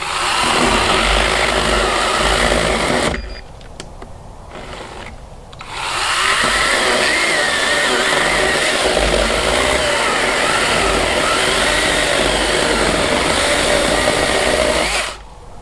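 Electric chainsaw, a Husqvarna Greenworks-style battery saw, cutting through wood: a steady loud motor whine under load for several seconds, a brief drop near the middle, then sustained cutting again until it cuts off near the end.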